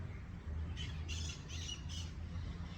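Harsh goose squawks burst out in a few rapid clusters over a steady low background hum, fairly close and loud, with no talking.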